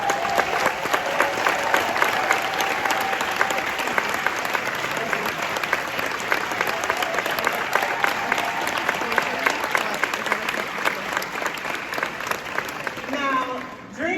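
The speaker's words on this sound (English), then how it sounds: "will you please stand so that we can give you a round of applause?" Sustained applause from a standing audience at a commencement ceremony honoring the judges, a dense steady clapping that fills the whole stretch, with a voice briefly audible near the end as it fades.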